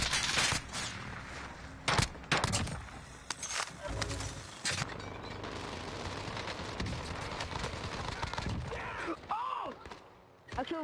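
Rapid bursts of automatic gunfire from a shooter video game, loud and dense throughout, with sharp individual shots and a player's voice occasionally over the action.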